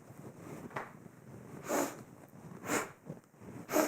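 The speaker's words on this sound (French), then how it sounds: "Les souffles peuvent devenir très actifs, très puissants." Strong, forceful breaths during a somatic yoga session, three loud airy bursts spaced about a second apart over a quiet room, with no talking.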